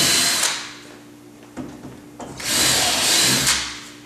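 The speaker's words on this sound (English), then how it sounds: "your next move is to pre-drill the vertical nailing flange." A power drill pre-drills holes through the vertical nailing flange of an accessible shower unit, heard as two bursts of whirring, one short early on and a longer one near the end, close and loud with quieter gaps between.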